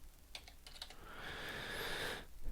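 Keys tapping on a computer keyboard in short bursts, fairly close but soft, followed by a brief stretch of broader hiss; no one speaks.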